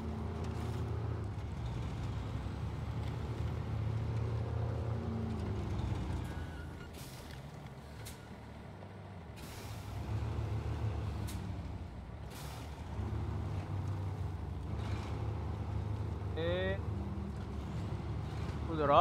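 A truck grinding along in SnowRunner, its low engine drone steady throughout with air-brake hisses and a few short rising tones, while a person talks over it.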